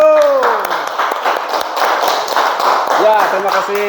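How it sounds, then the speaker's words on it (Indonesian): Applause in a classroom for a group of students after their role-play, a burst of clapping from the class under a teacher's speaking voice, with children's voices rising near the end. "Oke, tepuk tangan untuk kelompok 1."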